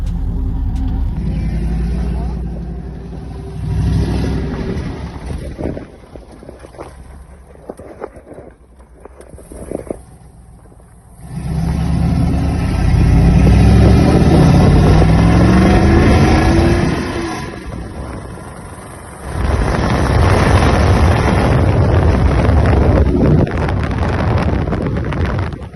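Loud, rumbling engine revs from a 1997 two-door Chevrolet Tahoe with an LS swap and open headers, rising and falling in bursts, harsh and close, with wind buffeting the microphone and brief quieter idling stretches between.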